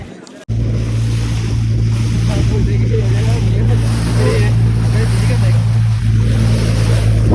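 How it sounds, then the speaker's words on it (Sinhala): A motorboat runs at speed across a lagoon at Negombo, with a loud steady engine drone mixed with rushing water and heavy wind buffeting close to the microphone. "දැන් පොඩ්ඩක් බෝට් එක ස්පීඩ් කරලා තියෙන්නේ පොඩ්ඩක් ගැස්සෙනවා මේක."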